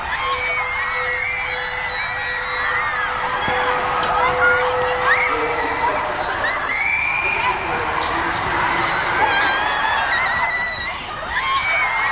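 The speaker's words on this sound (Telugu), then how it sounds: "అరుపులు, కేకలు, ఆర్తనాదాలతో బ్యారికేడ్లను దూకి దాటుకుంటూ భయంతో వణికిపోతూ పరుగులు తీస్తోన్న దృశ్యాలను చూస్తున్నాము" Panicked crowd of mostly teenagers after the Manchester Arena explosion, a dense, sustained wash of screams, shrieks and shouting voices from many people at once, near and chaotic throughout.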